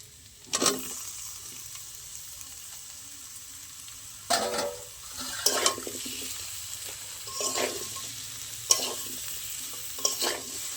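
Fried pumpkin is folded into spiced potatoes in a pan, a low background sizzle punctuated by four or five separate bursts of spatula scraping and stirring, close and clear with no speech.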